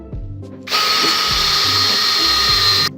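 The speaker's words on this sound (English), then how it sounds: "Alright, let's drill." A power drill starts after a brief quiet moment and runs loud and steady, a high whine with grinding underneath, close by, drilling a ring blank.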